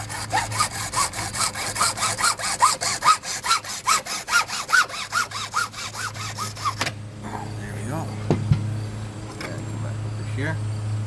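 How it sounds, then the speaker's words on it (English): A hand hacksaw cuts through a piece of wood while building a rink rake, about a dozen rhythmic back-and-forth rasping strokes, close and loud, then quiet handling noises and a soft knock. "So we can grab the hacksaw, come back over here, cut off roughly an"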